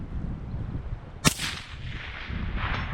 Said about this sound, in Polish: Drugi strzał.